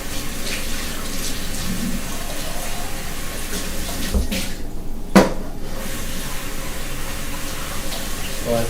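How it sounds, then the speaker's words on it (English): Tap water runs continuously while empty cans are rinsed in a sink, with a sharp metallic clank partway through. "But it's still good to rinse the cans so that like bugs don't get attracted as much."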